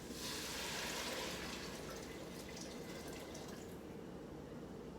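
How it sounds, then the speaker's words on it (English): Hot chicken broth pours steadily into a large pot with a soft, continuous splashing gurgle that tapers slightly toward the end, at fairly low volume. "Go ahead and pour this into the large pot."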